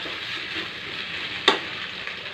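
Vegetables sizzle steadily in tempered oil for a side dish, a continuous close hiss of frying with one brief clatter of a stirring spoon partway through.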